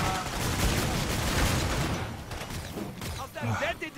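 Grenade explosions in the zombie shooter Killing Floor 2, a dense rumbling burst of blasts and gunfire that fills the first two seconds, then thins into scattered shots as voices talk over the din.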